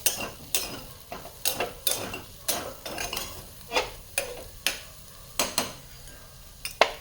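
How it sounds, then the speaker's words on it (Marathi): Raw banana pieces fry in a pan under a faint sizzle while a spatula stirs and scrapes against the metal in sharp, irregular clacks, close and clear, with no talking. "छान केळी इथे फ्राय होत आलेली आहे"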